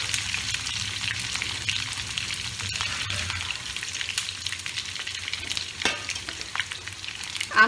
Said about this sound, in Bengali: প্রথমে আমি কি করব, আলুটাকে ভেজে নেব।